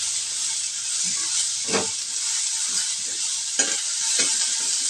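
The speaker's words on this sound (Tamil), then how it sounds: "இப்போ இதை நல்லா கலந்து விட்டுக்கிடலாம்" Snake gourd masala with fennel being stirred in a pan, a steady close frying sizzle with scraping spoon strokes breaking through every second or so.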